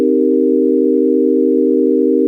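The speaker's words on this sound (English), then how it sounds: "It's a minor 7 chord. I just want a sine wave." A pure synthesized sine-wave minor seventh chord sustains steadily and loudly alone, a smooth, unchanging electronic tone with no attack variation.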